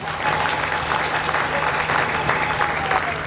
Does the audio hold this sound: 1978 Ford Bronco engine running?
no